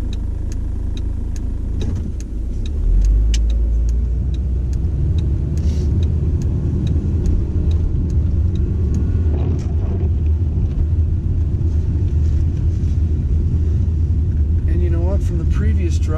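A car driving through light snow toward the village at Big Bear Lake, California, gives a loud, steady low rumble of engine and road noise from inside the cabin, with voices heard at times over it.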